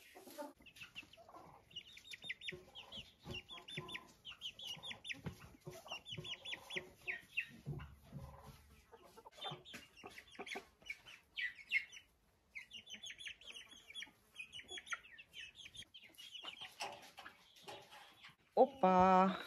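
Hens cluck and chirp in bursts close by, mixed with quiet talking and rustling, ending in a louder squawk.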